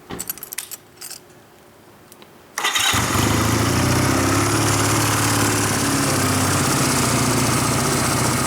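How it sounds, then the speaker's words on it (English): Honda Rebel motorcycle, warmed up for an oil change: a few jingles and small clatters, then the engine fires up about two and a half seconds in and settles into a loud, steady idle rumble close by. "The bike's been running for a few minutes."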